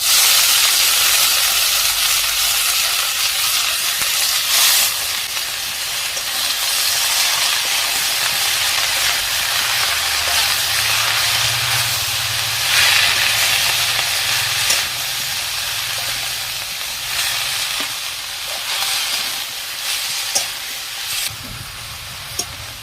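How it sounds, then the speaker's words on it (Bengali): Chopped cabbage sizzles in a pan of well-fried spice masala for a Bengali cabbage and snail dish, a loud, steady hiss of frying that carries on without pause. "মশলা ভালোভাবে কষানো হয়ে গেছে দিয়ে দিচ্ছি বাঁধাকপি"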